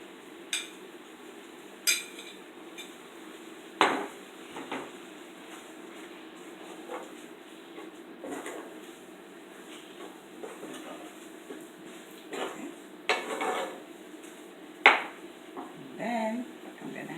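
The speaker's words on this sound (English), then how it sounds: "So I'm going to add my bulgur." Overnight-soaked soft bulgur tipped into a cooking pot and stirred, with scattered scrapes, knocks and clinks of utensil on pot spread across a quiet kitchen background.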